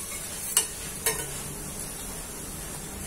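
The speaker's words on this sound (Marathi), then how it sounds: "तळून घ्यायच्या करंज्या" Karanji pastries frying in hot oil give a continuous bright sizzle, with two sharp clinks of a utensil early on, close and steady, and no voices.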